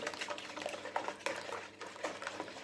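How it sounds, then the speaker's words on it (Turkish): Rapid light clinking of a hand whisk against a bowl while beating eggs, a quick irregular tapping rhythm, close and fairly quiet. "Ben şimdi şöyle yumurtamı ilk başta bir çırpıyorum"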